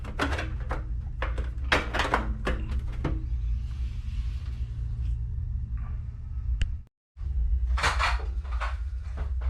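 A metal access panel is fitted back onto a Rheem electric water heater, giving a cluster of close clanks and knocks, then a stretch of quieter handling and a brief silence before more rattling.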